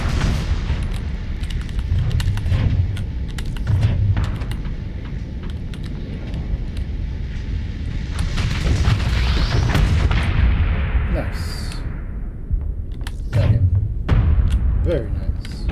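Torpedo launches and detonations in the space combat game Starsector: a run of heavy booms and thuds over a dense, sustained mechanical roar, with a rising whoosh midway and speech over the action.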